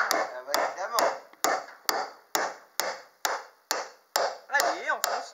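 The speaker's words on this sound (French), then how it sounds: "Je le tape avec le marteau." A hammer drives a timber dowel into a hole in roof-framing timber, with a dozen or so steady, sharp knocks close by, each followed by a short ringing decay.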